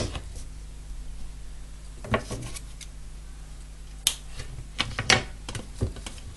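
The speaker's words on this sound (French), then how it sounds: "Alors là, je vais couper ce fil." Scissors cutting a thread while a dream catcher is finished, heard as a few sharp, close snips and clicks scattered over a low steady hum, without speech.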